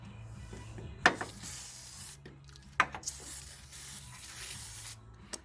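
An aerosol cleaner from an auto parts store is sprayed from a can onto a car, giving a steady close hiss broken by short gaps and a few sharp clicks of the nozzle.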